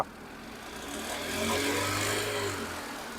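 A used Hyundai Santro's engine is revved in place, a steady mid-pitched hum that swells and holds, then eases off slightly over a few seconds.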